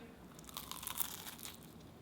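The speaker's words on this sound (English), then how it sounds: "Good crunch, caramelised pastry." Crisp crunching bites into a fried banana turon with a caramelised pastry wrapper, a short burst of close crackling and crinkling texture heard alone at low volume.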